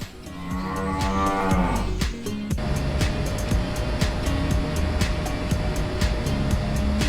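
Cattle moo loudly and repeatedly while being moved through curved processing chutes at a large beef plant, the long low calls rising over a constant mechanical hum and clattering metal, close and busy with no talk.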